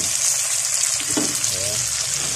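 Mussels sautéing in a hot pan for a Filipino ginisang tahong dish, giving a steady, close sizzle and frying hiss that runs throughout, with a brief soft stir partway through.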